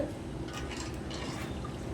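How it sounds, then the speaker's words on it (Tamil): Steady water pouring into a pot of rasam, a continuous splashing fill lasting the whole moment with no talk. "கொஞ்சம் தண்ணி சேர்த்துக்கலாம் மக்களே"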